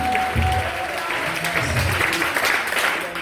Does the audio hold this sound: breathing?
no